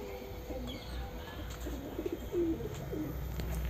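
Several pigeons coo softly nearby, low throaty calls repeating over quiet background noise.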